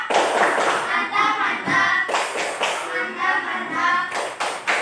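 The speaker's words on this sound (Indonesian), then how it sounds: "Tepuk mantap dulu buat kelompok 1." A classroom group claps for a presenting team in a rhythmic cheer, sharp hand claps in quick bursts mixed with voices chanting along, close and loud.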